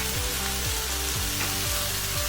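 Garam masala, ground coriander and turmeric fry with softened onion in a cast iron pan for lamb keema curry, a close steady sizzle with rhythmic stirring scrapes repeating about every half second.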